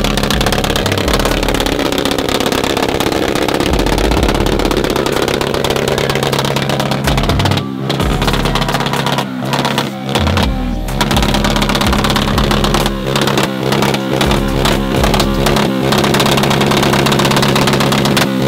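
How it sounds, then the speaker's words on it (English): Motorcycle engine idling in a racing video game, a steady loud mechanical drone with revving fluctuations and brief dips, continuous throughout with no talking. "Oh, it's a motorcycle."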